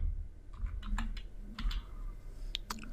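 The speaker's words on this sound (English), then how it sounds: "So I'm going to type in system." Typing Java code on a computer keyboard, a few soft scattered key clicks at an irregular pace over a low room hum, close but quiet.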